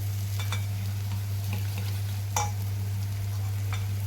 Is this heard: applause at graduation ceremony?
no